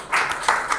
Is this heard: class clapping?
yes